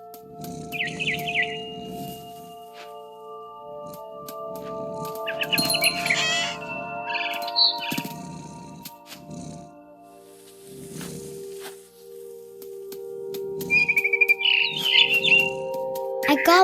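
In the game What Remains of Edith Finch, a mama bird in a tree gives short bursts of high chirping at intervals, set among sustained musical tones and other soft game sounds.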